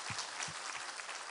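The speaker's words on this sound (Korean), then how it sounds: "우리 하나님께 감사와 영광의 박수 올려드리겠습니다" A church congregation clapping during a Sunday morning worship service, a brief burst of steady applause at moderate distance.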